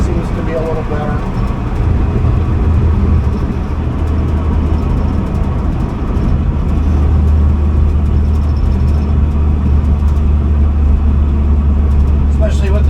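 A car with a slant six engine and 3.92 gears cruises at about 40 to 50 mph, giving a steady low drone with road and tire rumble; someone talks over it.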